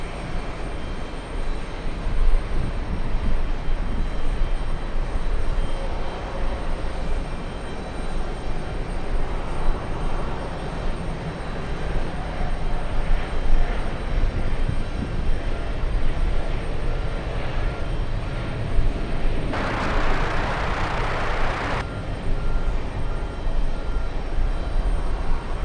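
Jet aircraft roar at JFK airport near the TWA Hotel. A continuous broad, heavy engine rumble holds throughout, with a brighter hissing surge partway through.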